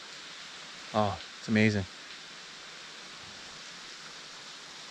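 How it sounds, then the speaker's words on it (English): Waterfalls pour down a cliff beside a walkway at Emerald Pools in Zion, giving a soft, steady rushing hiss throughout, with a brief spoken exclamation from a nearby person partway through. "you have waterfalls that are coming down"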